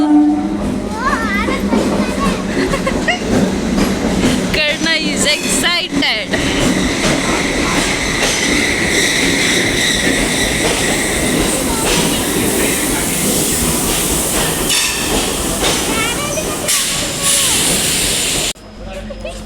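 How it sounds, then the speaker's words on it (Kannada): A train rumbles and clatters into a station, its roar building and holding while children and adults talk excitedly nearby. "ಕಣ್ಣಲ್ಲಿ ನೋಡು ಟ್ರೈನ್ ಬಂತು"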